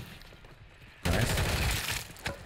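A sudden burst of rapid gunfire in the Warzone game breaks in after a quieter, muffled stretch, followed by a brief further shot near the end.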